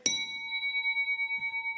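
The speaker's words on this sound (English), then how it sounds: "So here I have a big metal bell." A big metal bell struck once, giving a sharp clang that settles into a steady, sustained ring with clear pure tones and a slow pulsing beat as it decays, with a faint knock near the end.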